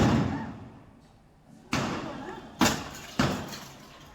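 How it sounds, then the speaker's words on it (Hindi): Police fire tear gas shells at a stone-pelting crowd in Delhi after an anti-encroachment action: one booming bang at the start, then three more sharp reports with echoing tails at uneven intervals, with voices in the background. "आंसू गैस के जो गोले हैं वो भी दागे। आवाज भी आप सुन सकते हैं"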